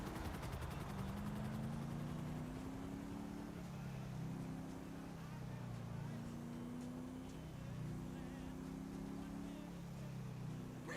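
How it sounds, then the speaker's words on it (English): A video game helicopter drones steadily for the whole stretch, its rotor and engine hum wavering up and down in pitch, fairly quiet, with no speech over it. "Helicopter!"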